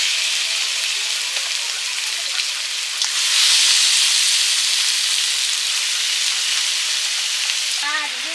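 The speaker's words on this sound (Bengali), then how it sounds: "চিংড়ি মাছগুলো ভেজে নিচ্ছি, একদম হালকা করেই ভাজবো।" Prawns coated in salt and turmeric fry in hot oil, a loud, dense, rain-like sizzle that swells for a few seconds and then settles into a steady hiss, close up with no talk.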